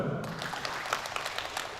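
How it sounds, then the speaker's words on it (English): Audience applause at an international seminar on Islamic transformations in the digital era, a steady patter of clapping filling the hall for a short stretch without talk. "Please applause to her."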